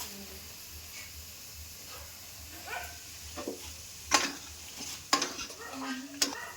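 A faint sizzle comes from a frying pan of egg tarka with dal and Maggi masala, broken by spoon stirring and scraping and three sharper metallic taps toward the end.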